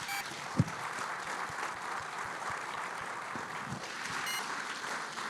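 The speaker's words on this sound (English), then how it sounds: "please give a big round of applause to our speakers" Steady applause from a conference audience for the speakers fills the whole stretch, a dense wash of clapping at moderate level with a sharp knock near the start.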